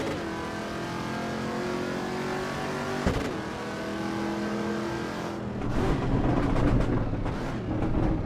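Big Chevy V8 engine in a racing video game, holding a steady droning rev before a sharp shift, then rising and falling with harsher throttle bursts, loud and continuous with no talking.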